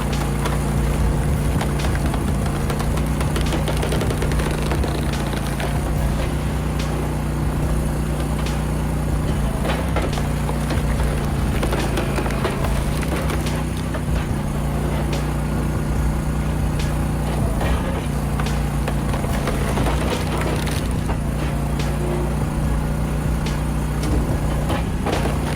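A Timberwolf Alpha 6 log processor, built for logs up to 20 inches across, runs steadily with a loud, continuous engine drone and a mechanical rumble, punctuated by intermittent clanks and knocks of wood being split.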